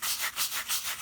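Rhythmic scrubbing of caulk in a concrete driveway crack with a sprinkled sand and concrete mixture, a steady close-up gritty rubbing pulsing back and forth about every fifth of a second.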